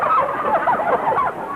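Turkeys gobble in a short, busy burst of warbling calls, used as a sound effect in a 1951 radio comedy episode.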